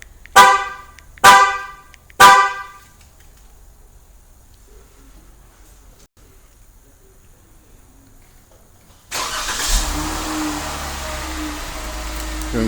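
A 2014 Dodge Durango answers its factory OEM remote with three loud horn chirps, then a long silence, before the engine cranks and settles into a steady idle rumble.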